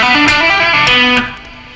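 Distorted electric rock guitar playing a descending scale lick with hammer-ons and pull-offs, loud and close, notes running quickly before ringing out and fading.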